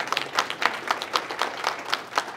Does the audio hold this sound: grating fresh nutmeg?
no